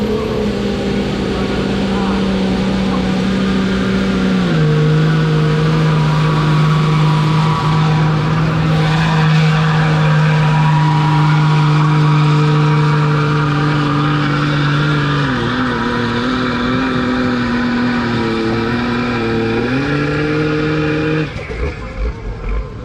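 A Dodge pulling tractor roars loudly down a wet clay track at a tractor pull, its engine note holding a heavy sustained drone that shifts pitch several times before easing off near the end, with a voice faintly underneath.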